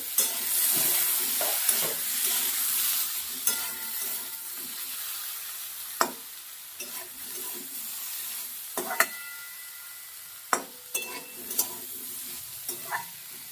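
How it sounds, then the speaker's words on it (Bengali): Fish oil with potato and eggplant frying for chachchari hisses steadily in the pan while a spatula stirs and scrapes, adding irregular knocks and clatters. "ঢাকনা দিয়ে সব কিছু একটু হালকা ভাজা ভাজা করে নেব।"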